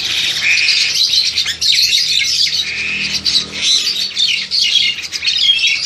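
A local Hong Kong myna calling up close, loud bright chirps, squawks and whistles running almost continuously in rapid varied phrases.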